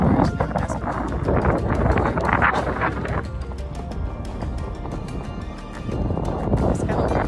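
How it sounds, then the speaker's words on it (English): Wind gusting across the Royal Gorge suspension bridge high above the canyon, a loud blustery roar buffeting the microphone, swelling and easing in waves. "It's kind of windy out here, so the bridge is actually moving."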